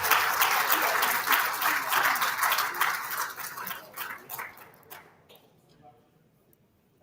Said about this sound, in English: Shall we do a big round of applause for today's guests?